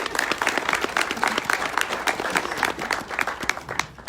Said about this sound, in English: Let's give Brian a round of applause.